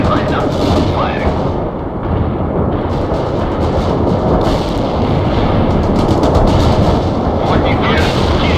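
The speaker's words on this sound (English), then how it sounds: "Artillery lined up. Firing." Artillery fire in the strategy game World in Conflict, with heavy booms and rumbling blasts rolling continuously beneath radio-style voices giving orders.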